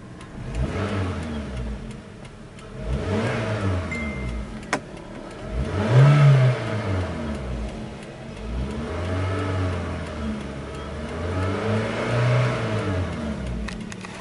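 A 2009 Suzuki SX4 with an automatic transmission idles nearby, and its engine is revved several times. Each rev swells and falls back in roughly regular waves, and no one speaks.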